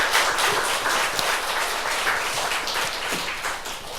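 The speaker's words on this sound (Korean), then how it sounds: "박수." A church congregation applauds, with dense, loud clapping that stays even and close for the whole stretch.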